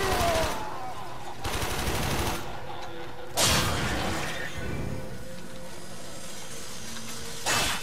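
Bursts of automatic gunfire from the shooter game Warframe come in several loud rapid volleys separated by quieter gaps, with faint game sounds underneath.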